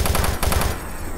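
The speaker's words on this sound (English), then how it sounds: "Shotgun doing what it does best." Rapid shotgun blasts from DOOM 3 Enhanced Edition, several sharp bursts packed close together over about a second, loud and punchy, then a short decaying tail.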